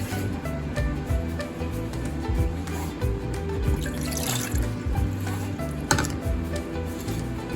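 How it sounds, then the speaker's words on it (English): A cup of water poured from a cup into a cooking pot in a kitchen, a steady splashing, trickling fill lasting several seconds with no voices. "we're gonna put 1 cup of water into the cup"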